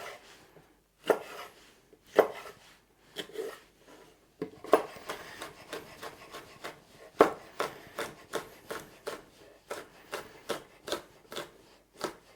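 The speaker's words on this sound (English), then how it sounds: "half of this I'm going to cut into cubes" A knife cuts food into cubes on a wooden board, a series of crisp chopping thuds that start sparse and settle into a faster steady rhythm, close and clear with no talking.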